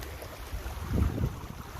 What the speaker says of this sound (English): Check out this creek.